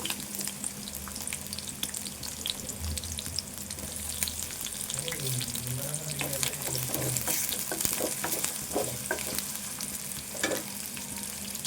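Onion and three green chillies fry in hot oil for a chicken fry, a steady close sizzle with scraping stirs and a faint trickle of water in the background, no talk.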